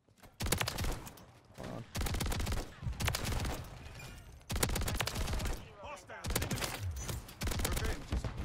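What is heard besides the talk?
Haymaker shotgun gunfire in the video game Call of Duty MW3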